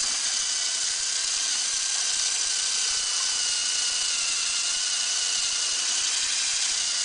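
A fischertechnik pneumatic compressor motor drives toy gears in a steady, continuous whir with a grinding mechanical hiss, holding an even level throughout with no speech.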